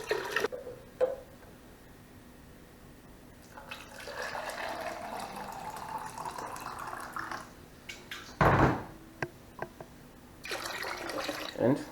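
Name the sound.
water poured in for brewing lime beer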